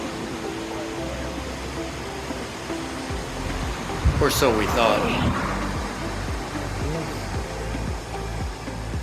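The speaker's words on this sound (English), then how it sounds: "And then the real waterfalls began." Waterfalls beside a road in Scandinavia, a steady broad rushing roar of falling water heard continuously, with someone talking briefly over it partway through.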